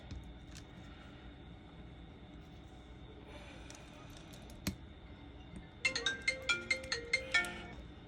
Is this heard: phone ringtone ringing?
yes